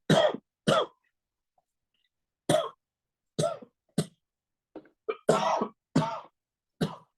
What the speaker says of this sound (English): Just needs to clear my throat.